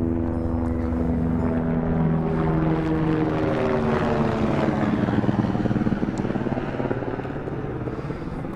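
A helicopter's rotor chops and its engine drones steadily nearby at Kedarnath, the loud, pulsing roar easing slightly toward the end.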